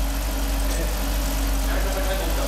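A 2015 Jeep SRT engine idles on a Prins VSI 2.0 autogas system, a steady, loud, low rumble with constant broadband hum and no change in pace, no speech over it.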